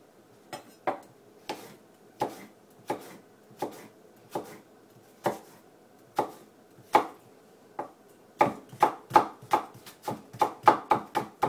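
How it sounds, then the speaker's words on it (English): A knife slices food very thinly against a board in sharp, distinct chops, spaced at first and then quickening into a rapid close run near the end, close by with no talk. "about the thinnest possible slices you could get"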